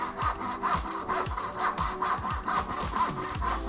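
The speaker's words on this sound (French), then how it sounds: "je vais essayer de faire comme un espèce de mini trait dans mon tenon" A hand saw cuts a thin kerf into a wooden tenon, a steady rasping back-and-forth rhythm of about a dozen close strokes that continue evenly throughout.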